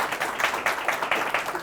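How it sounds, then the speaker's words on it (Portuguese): An audience applauding a volunteer at a magic and hypnosis talk, with moderate, fairly even clapping from a small crowd over a short stretch. "uma salva de palmas para o Nicolau"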